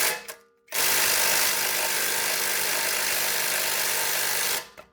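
A power impact wrench works a stubborn nut on a Jeep during a 3.5-inch Iron Rock Off Road lift kit install, a loud continuous buzzing whir running steadily for about four seconds, starting and stopping abruptly with no talk.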